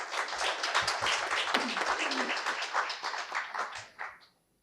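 An audience claps in an auditorium at an official-language conference, a dense patter of applause under a voice that fades out toward the end.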